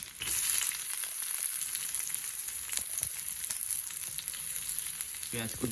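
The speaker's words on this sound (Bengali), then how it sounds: "তারপরে যাচ্ছে আদা, তারপরে যাচ্ছে কাঁচা লঙ্কা, তারপরে যাচ্ছে পেঁয়াজ কুচি" Ginger, green chili and chopped onion hit hot oil for Bengali-style chowmein, a loud close crackling sizzle running steadily throughout, with a brief clatter near the end.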